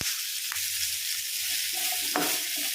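Shallots and curry leaves fry in hot oil for mutton paya, giving a loud, steady sizzle and crackle close by, with a few faint clinks of stirring.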